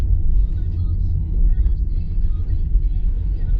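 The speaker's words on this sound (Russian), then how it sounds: "Начинает немного доноситься шум от арок. Это у нас, соответственно, наша зимняя резина." Low, steady road rumble inside a moving Skoda Rapid on winter tyres, with noise from the wheel arches near 40 km/h, continuous and fairly loud throughout.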